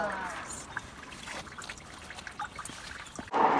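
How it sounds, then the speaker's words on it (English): Rainwater runs into a street storm drain, or catchment basin, as a faint, continuous trickle and dribble, with a brief louder splash near the end. "it flows downhill until it finds somewhere to soak into the ground, or until it reaches a storm drain"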